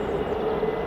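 Jet airliner of Hainan Airlines on final approach to land at Edinburgh Airport, a steady broadband engine roar with a sustained low drone, moderately loud and continuous throughout.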